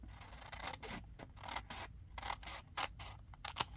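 Scissors snip through excess junk mail paper in a series of short, close, crisp cuts with brief pauses between them, no voices present.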